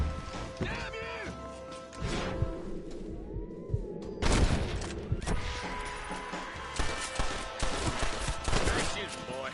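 Gunfire in a Red Dead Redemption shootout at a house: several loud sharp shots and crashing impacts ring out in bursts, with voices and game sound beneath.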